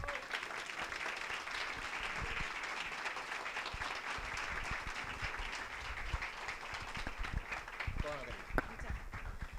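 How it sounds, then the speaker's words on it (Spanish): An audience gives sustained applause, many hands clapping together in a steady wash for several seconds in a room. "Un tremendo aplauso"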